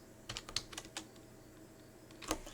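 Computer keyboard being typed on nearby: short bursts of crisp key clicks in quick clusters, a lull, then a final firm tap, with no speech.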